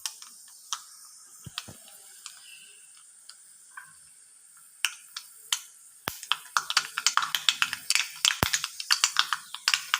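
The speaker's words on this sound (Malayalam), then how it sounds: "കടുക് പൊട്ടുന്നു." Sparse sharp pops at first, then rapid crackling and popping builds into a dense, close sizzle of seeds bursting in hot oil.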